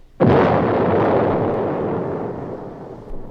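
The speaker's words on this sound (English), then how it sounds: "From around the point, a merchantman sailed, its guns booming and smoking." A merchant sailing ship fires its guns, one loud booming blast that rolls out into a long fading rumble, with a softer thud at the end.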